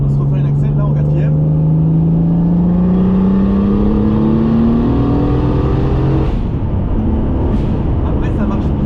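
A turbocharged BMW E36 325i with an air filter accelerates in fourth gear, the engine tone climbing steadily for several seconds before easing off, heard from inside the car with someone talking over it.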